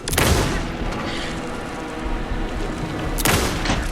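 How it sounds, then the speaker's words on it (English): Bursts of gunfire in Alan Wake 2 boom at the start and end, with a dense, noisy rumble of shooting between them. "Anderson, pin him down with gunfire for me to get the light on him."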